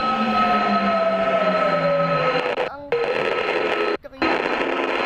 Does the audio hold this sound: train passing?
yes